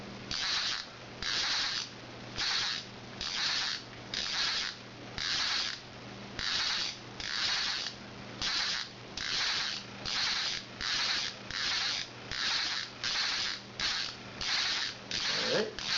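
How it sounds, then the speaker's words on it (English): Fly line stripped off the reel by hand into a bucket, a steady run of about two dozen evenly spaced, fairly loud rasping pulls with brief gaps between them. "Go ahead and just strip it on off into the bucket."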